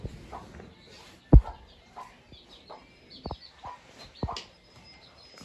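Newly hatched chicken chicks give short, sparse peeps and cheeps close by, with soft clucks from the hen, one sharp knock, and quiet background noise in between.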